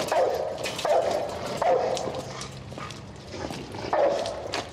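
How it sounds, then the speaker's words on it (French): A dog barks in repeated short bursts, about four or five over several seconds, moderately close against a busy background. "tu m'as l'air d'un brave toutou"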